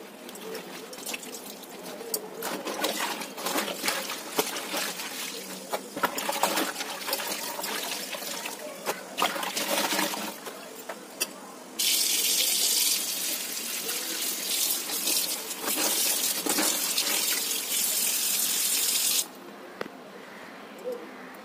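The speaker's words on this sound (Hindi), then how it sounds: "फिर अब हम कपड़ों को खंगा लेंगे।" Clothes are rinsed under running tap water in a sink, with continuous splashing and trickling, a louder steady gush in the middle and wet sloshing as the fabric is moved.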